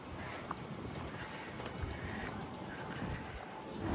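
Strong wind gusts through the streets of Copenhagen, buffeting the microphone with a steady low rushing roar and a few sharper thumps.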